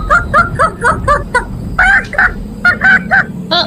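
Cartoon chickens and a rooster give a run of short, evenly spaced clucks, then a few louder, drawn-out squawking calls, close and clear over a faint background hum.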